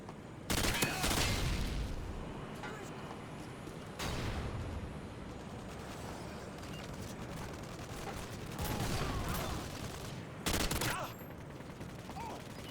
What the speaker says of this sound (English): A little bit of underbarrel shotgun action.